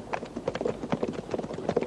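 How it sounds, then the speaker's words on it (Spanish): A herd of wild horses gallops through a canyon in a Western setting, a dense, irregular clatter of many hooves at close range, loud and continuous, with a few faint shouts mixed in. "Se acerca una manada de caballos salvajes por el cañón."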